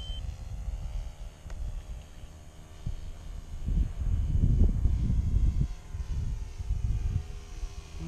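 A radio-controlled model propeller plane, an OS 26 FS engine on a small sport plane, drones at a distance, fading in and out with a steady buzzing hum and some wind rumble.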